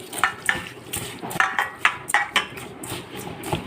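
Mango pieces being mixed by hand with sugar and turmeric powder for a mango chutney, giving soft wet squelching and stirring sounds in an irregular rhythm, close and moderately loud.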